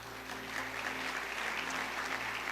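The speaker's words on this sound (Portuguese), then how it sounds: "Você pode dar um aplauso a Ele?" Church congregation applauding during a worship service, a steady, even wash of clapping held at moderate level, with a low musical drone sustained underneath throughout.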